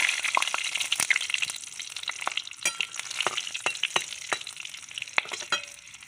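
Bay leaf and green chili frying in hot oil, giving a steady, close sizzle with crackling pops and sharp utensil taps scattered throughout, with no voices.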